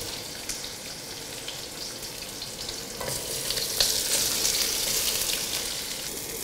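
Ginger and spring onion frying in oil in a wok, a steady quiet sizzle with crackling pops that grows louder and brighter partway through as more goes into the pan, with faint stirring scrapes.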